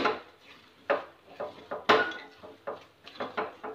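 Cooked foxtail millet being mashed inside an open pressure cooker pot, giving a series of soft scraping and knocking taps of a utensil against the metal, close by and fairly quiet, with no talking.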